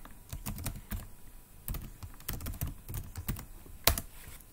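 Typing on a computer keyboard, a close, quiet, irregular patter of key clicks with brief pauses and one sharper tap near the end, no voices.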